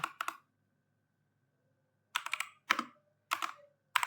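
Keystrokes on a computer keyboard in two bursts: a quick double tap near the start, then after a long pause a rapid run of clustered clicks and separate presses, close and crisp with no talking.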